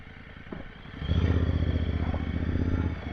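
A motorcycle riding along a rural road in Hawke's Bay, its engine a steady, close, throbbing drone that swells louder partway through and holds, with no voices.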